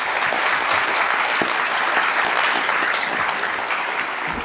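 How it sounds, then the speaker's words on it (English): Audience applauding panelists at an institute event, a loud sustained round of clapping that holds steady throughout with no speech over it. "and let's give them all a round of applause."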